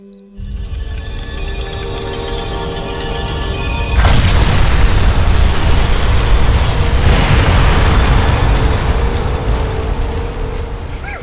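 Time bomb detonating in the Art of Murder video game: a quiet ticking mechanism gives way to a loud, sustained roaring blast that swells suddenly and rumbles on to the end.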